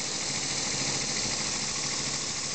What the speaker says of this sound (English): It's an absolutely filthy engine to run.